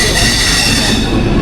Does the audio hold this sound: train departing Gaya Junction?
yes